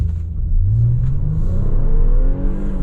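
A 2022 Nissan Pathfinder Platinum pulls away at night, its engine note rising steadily in pitch as it accelerates, a close, smooth droning rumble heard from inside the cabin.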